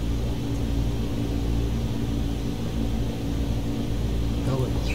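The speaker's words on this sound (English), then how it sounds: "Apply full power and I'll walk you through the takeoff as we go." A Cessna engine in Microsoft Flight Simulator 2020 drones at full takeoff power, a steady, loud, low rumble that holds unchanged throughout with no talking over it.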